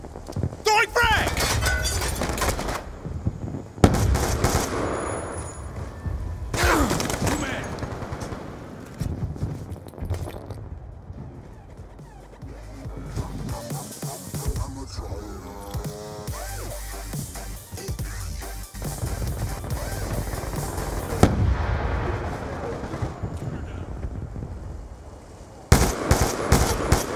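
Rapid gunfire crackles throughout a Black Ops 2 match on the Plaza map, with bursts of shots and loud impacts as a frag grenade is thrown, while a player talks over the action.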